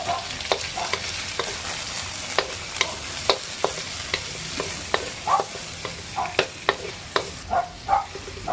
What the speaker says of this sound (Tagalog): Dahil unahin po natin lutuin itong ulo po ng ating hipon.